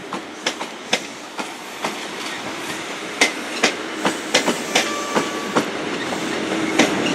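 A passenger train rolls through Plymouth station, wheels knocking in a regular clickety-clack over rail joints above a steady rumble, fairly close and with no voices.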